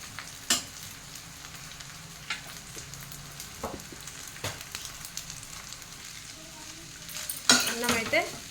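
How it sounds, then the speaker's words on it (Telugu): Potato fried rice made with basmati rice is stirred in a pan at home, with scattered scrapes and clinks of a spoon over a low, steady sizzle and a louder burst of stirring near the end. "ఇలా కలుపుకుంటున్నాను."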